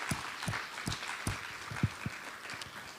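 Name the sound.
audience applause at a seminar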